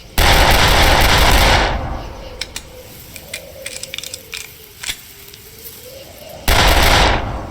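Rifle fire while sighting in a gun in the video game Darkest of Days: a loud burst opens, quiet ticks and small clatters follow in the middle, and another loud blast closes.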